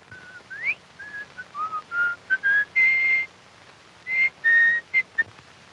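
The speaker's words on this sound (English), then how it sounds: "You don't mind if a man whistles to himself" A man whistles a tune on his own, a series of clear short phrases broken by brief pauses, close and fairly soft, with no voices over it.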